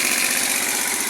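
A SYM Radar 125 motorcycle engine idles after a pulser from another motorcycle's stator was fitted, giving a steady, even chugging hum, close and alone.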